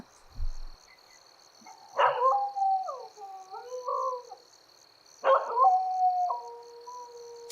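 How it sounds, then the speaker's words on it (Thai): A dog howls in two long, wavering, moderately loud cries, with a quiet high electronic tone running steadily behind them. "หมาหอน"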